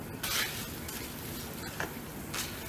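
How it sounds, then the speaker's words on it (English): Chicken stew simmering after a cup of minute rice is added, producing a continuous soft bubbling sizzle with faint stirring scrapes throughout. "I'm going to add a cup of minute rice right into the stew. And I'm going to let that cook for a couple of minutes."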